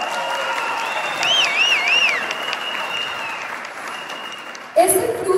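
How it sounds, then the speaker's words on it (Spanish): Audience applause for a presenter named Mauricio at a talk, a steady broad wash of clapping for several seconds with a whistling or tonal sweep over it, ending abruptly as a voice begins. "Un aplauso para Mauricio."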